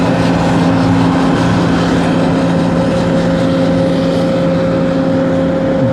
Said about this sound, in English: Oh, it's a tractor.